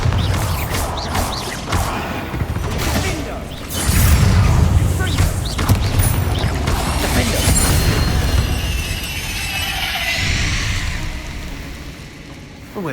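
Bombarda spell blasts in the Hogwarts Legacy video game, a loud sustained rumble of booming explosions and crashing debris with a heavier burst midway, a voice speaking over the combat.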